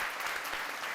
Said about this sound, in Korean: 박수 좀 한번 쳐봐